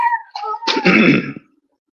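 A single loud, harsh cough bursts out close to the mic after a brief throat sound, then stops abruptly into silence.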